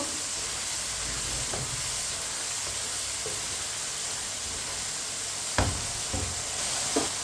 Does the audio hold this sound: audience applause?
no